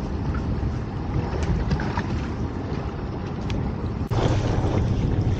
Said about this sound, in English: It's getting quite breezy out here now, as you can probably hear.